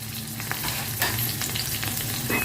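Green chilies and grated garlic fry in mustard oil, giving a steady close sizzle with light stirring clicks throughout and no voices.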